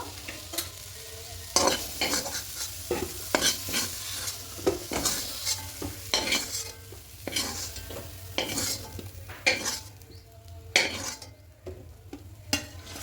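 Brinjal fries in a kadai while a spatula stirs it repeatedly, making a steady rhythm of close scraping strokes and light metal clinks over a low, continuous sizzle.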